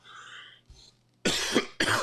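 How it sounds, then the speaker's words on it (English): A person coughs: a faint throat sound followed by two loud, harsh coughs in quick succession, close by. "I don't know why I can't talk tonight without coughing"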